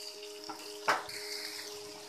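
Potato pieces fry in a pan over a low flame, giving a soft, steady sizzle with one brief clatter of stirring.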